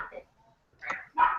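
A dog gives a few short, close barks in quick succession, separated by brief quiet gaps, in a quiet room.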